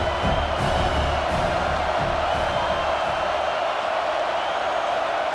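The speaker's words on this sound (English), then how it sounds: "This crowd knows when to bring it." A large simulated stadium crowd in the video game EA College Football 26 roars and cheers continuously during Colorado at Utah, a steady wash of noise with occasional louder swells.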